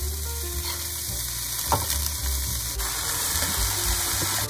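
Lentils tossed into a pan seasoned with pepper, cumin, onion and garlic, frying with a continuous sizzle and an occasional stir or clink, near and alone.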